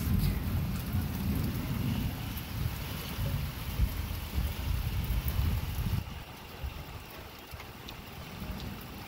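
A thunderstorm passes by outdoors with a steady wash of rain and wind and deep rumbling thunder that rolls heavily at first, then fades and thins toward the end, with no voices.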